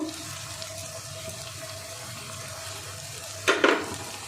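Spice masala for egg pulao sizzles steadily in hot oil, with a louder stirring scrape and hiss near the end.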